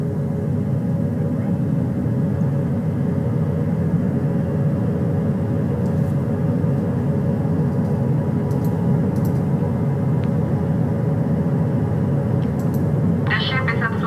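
Helicopter rotor and engine noise as a helicopter touches down on a ship's flight deck at flight quarters, a steady loud low drone throughout with a brief higher burst near the end.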